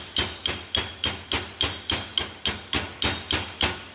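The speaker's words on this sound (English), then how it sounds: "I'm gonna be able to use that to hammer the bearing in nice and even." Steel bearing hammered into a Ford Dana 50 TTB front axle housing: about eleven sharp, evenly spaced metallic strikes, roughly three per second, close and loud with no talking.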